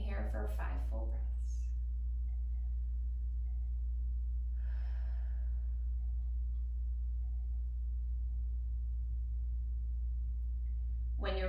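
One slow, deep breath rises and falls softly midway through a long hold in a floor yoga pose, over a constant low background hum. A voice speaks briefly at the start and end.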